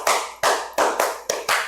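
Six close, crisp hand claps in a steady, slightly uneven rhythm make up a combined 'tepuk semangat' classroom clap sequence led by a teacher, loud and alone with no speech.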